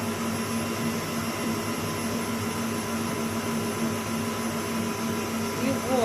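An electric mixer runs at maximum speed whipping pumpkin-apple marshmallow. It makes a loud, steady, high whirring drone, close and unbroken, with a slight pitch shift near the end.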